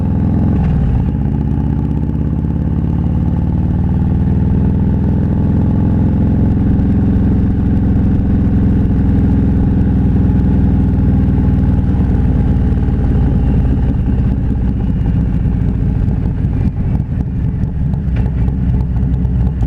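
A 2019 Harley-Davidson Road King Special motorcycle engine rumbles loud and close while riding, a steady, deep drone that holds for the whole stretch without a pause, with no one talking over it.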